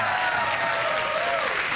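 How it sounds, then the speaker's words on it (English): Studio audience applauding for a talk-show guest: steady, dense clapping that fills the short stretch at even loudness, without voices on top. "I really hate it when people applaud my age"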